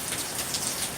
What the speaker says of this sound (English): You can see the rain here.